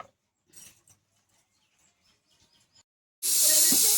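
Pressure cooker with mutton whistling on a stove: after quiet kitchen sounds, a loud steady hissing whistle bursts in near the end and continues strongly to the close.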